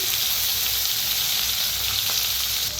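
Asafoetida, curry leaves, crushed green chilli and garlic fry in hot oil for a tempering, giving a steady, dense close-up sizzle that holds evenly throughout with no voices.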